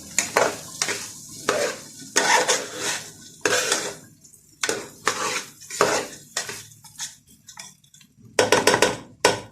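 Rice being stirred slowly in a pot on the stove while it toasts before broth is added, with repeated scraping, clinking strokes in an uneven rhythm and a faint sizzle underneath.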